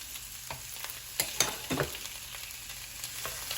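Italian sausage with onions and peppers fries in a pan, giving a steady soft sizzle broken by a few sharp scraping stirs of a utensil against the pan.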